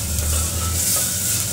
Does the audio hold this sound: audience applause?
no